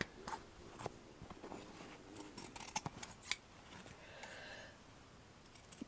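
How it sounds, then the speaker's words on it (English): Scissors snip around a paint-pour jewelry piece, a quiet, irregular series of close, crisp cuts with short pauses between them. "Just cut around that."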